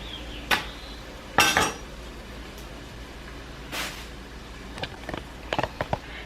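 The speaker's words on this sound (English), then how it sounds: "I'm gonna take off the tail end of that part as well" Organic broccoli having its root end trimmed on a cutting board, a few sharp knife chops and clunks scattered over several seconds, then a quick run of lighter taps near the end.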